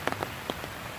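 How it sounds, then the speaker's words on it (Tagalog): Rain at an outdoor recreation center in Rizal, near a large outdoor chessboard, lands as a few sparse, distinct drop impacts over a quiet background, with no talking. "Okay, it's raining."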